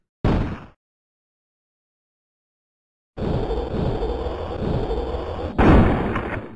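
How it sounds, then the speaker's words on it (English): Digitized sound effects from an Amiga 500 Doom-style game: a short burst, a pause of silence, then a longer rumbling door-opening noise ending in a louder final burst. "And the door activation sound as well."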